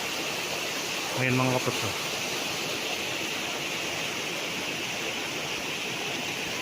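Spring water from a natural source on a farm lot in Lucban, Quezon flows steadily as a constant broadband rush, with a brief spoken phrase near the start.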